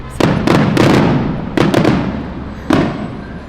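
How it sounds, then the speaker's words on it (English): Fireworks like big bottle rockets go off during a Mexico road trip, several sharp loud bangs in irregular bursts, some clustered together, each trailing off with a crackling echo outdoors. "They're like fireworks, basically big bottle rockets going off."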